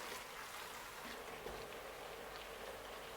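Minced meat, about 800 grams, fries in a pan with a steady, dense sizzle, loud and close, and no talking over it.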